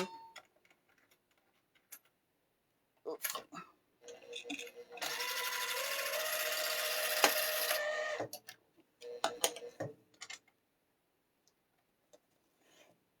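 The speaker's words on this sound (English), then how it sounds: "So let's wind a new bobbin." A home sewing machine winds a new bobbin with a steady, high whir lasting about three seconds, surrounded by scattered clicks and handling knocks in a quiet room.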